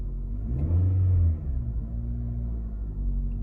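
A 2014 Nissan Rogue engine runs close by with a steady low rumble, swelling briefly in a short rev before settling back to an even idle.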